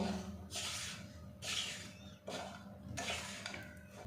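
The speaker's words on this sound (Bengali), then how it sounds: "এবার এটা ভালো করে মিক্স করে নেব।" Roasted gram flour being mixed with cardamom powder and sugar in a pan, four rhythmic scraping, swishing strokes of a spoon roughly a second apart, close and moderately loud.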